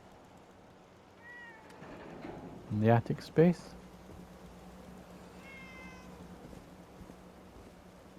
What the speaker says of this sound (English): there's the other cat